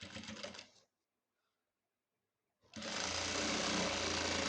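Sewing machine running a seam along the edge of blouse fabric, with a brief burst of stitching, a pause of near silence, then a louder, steady, fast mechanical whirr close by and without voices.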